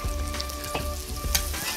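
Onion and carrot frying in a kazan for Tatar-style noodle plov, a steady close sizzle with soft bursts of spatter and faint stirring scrapes throughout.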